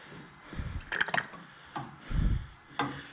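Brake fluid from a Jeep CJ7 brake booster being drawn out with a turkey baster gives soft, intermittent squelching slurps and drips, three or four short bursts close to the microphone.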